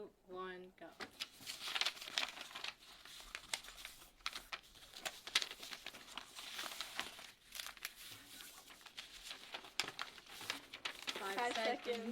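Rapid crinkling and rustling of paper as sheets are creased and folded into paper airplanes, with people talking and calling out over the activity.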